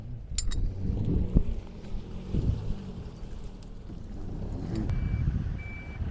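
Suzuki Vitara gently pulling a Suzuki Jimny by a rope on its tow bar, a steady low engine rumble with wind buffeting, a few short beeps near the end.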